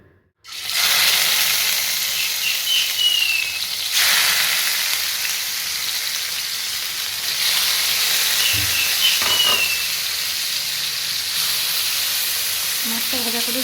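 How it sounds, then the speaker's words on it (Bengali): Katla fish pieces frying in hot oil in a home kitchen, a loud, steady broadband sizzle that swells and settles as the fish is turned, with a few soft utensil knocks near the end. "মাছটা ভাজা করে নিই।"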